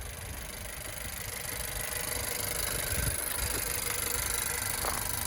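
A 2019 Honda CR-V Touring idles smoothly at close range, a low steady engine hum with no voices.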